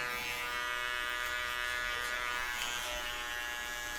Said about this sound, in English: I'm just going to go in, fine tune this a little bit with my trimmer